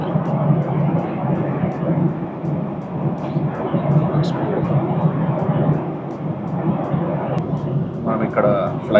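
Inside an airliner cabin on a flight over Norway from Denmark, a steady, close, low engine drone and air rush fills the space without letup, with a few faint clicks near the end.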